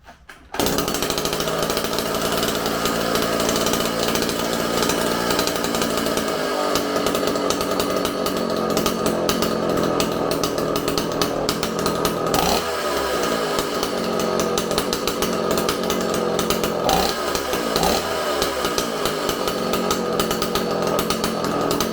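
An old Stihl 041 Farm Boss chainsaw that had not run in years starts up and runs loudly, its engine buzzing steadily with a few revving surges and dips.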